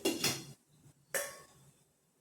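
A metal lid set over a pot of steaming egg momos, two quick clanks close together, then a second clatter after a short pause, in a quiet kitchen.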